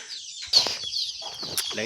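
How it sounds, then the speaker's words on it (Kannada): Ordinary hens on a small farmhouse plot cluck in short bursts with a sudden squawk and some wing flapping, fairly close. "ಇಲ್ಲಿ ನಾರ್ಮಲ್ ಕೋಳಿಗಳು ಇರ್ತವೆ"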